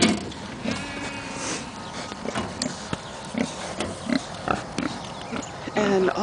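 Pigs grunt and snuffle in a foggy farm livestock pen that is shared with goats and sheep, giving scattered short close grunts under a person talking.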